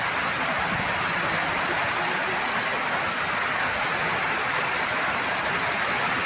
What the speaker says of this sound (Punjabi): ਇੰਨੀ ਤੇਜ਼ ਬਾਰਿਸ਼